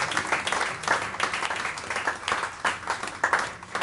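Applause from a jazz club audience welcoming a singer on stage, a dense, even wash of clapping with slight swells, sustained for several seconds at moderate level.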